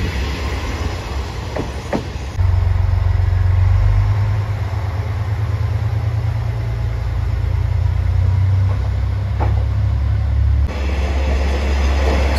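A JR Shikoku 1200 series local diesel railcar in Tokushima rumbles past close by, its loud, steady engine drone and rolling wheels filling the scene with no voices.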